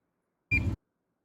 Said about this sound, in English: It will beep and display the stabilized turbidity measurement in units of NTU.